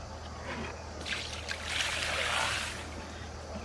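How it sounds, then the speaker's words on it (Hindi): Water is poured and splashes across a floor during cleaning, a soft trickling wash that swells in the middle and fades, with no talk. "फरस के धो दै छियै।"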